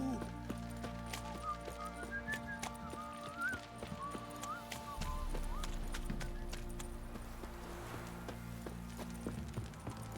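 Horses trotting with steady clip-clop hooves and an occasional neigh in the open-world fantasy game The Witcher 3: Wild Hunt, layered over game music and ambience, with some talk around them.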